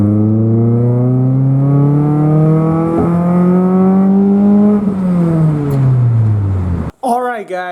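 A car with a ported intake driving, its engine droning steadily and rising in pitch through the gears, loud and close from inside, then cutting off as talking begins at the end.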